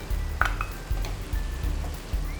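A spoon stirs a tomato basil sauce with fresh cream, mixed herbs and sugar in a pan, giving a few soft scraping strokes over a quiet sizzle, close and fairly faint.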